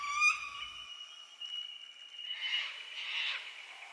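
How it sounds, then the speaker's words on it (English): Sulphur-crested cockatoos call in the Australian bush: a thin, clear tonal note opens, then harsh, raspy screeches come faintly from a distance in two short bursts. "And up there is a Sulphur-crested Cockatoo."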